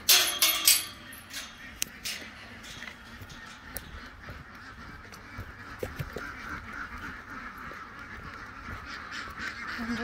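Ducks and geese honk and quack near a farm coop at feeding time, a loud burst of calls opening the scene and then a steady, busy chorus of overlapping quacks and honks.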